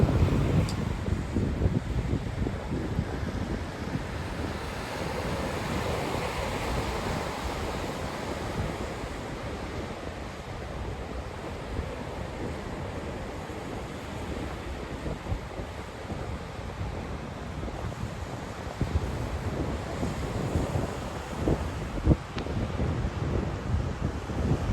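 Steady ocean surf washes continuously below a flat harbor seal rock on the shore, a broad roar mixed with buffeting wind noise on the microphone, with no voices throughout.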